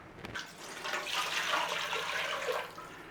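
Vegetable broth poured from a container into a pan for seitan, a steady liquid splash and gurgle lasting about three seconds, fairly close and even in level, with no talking.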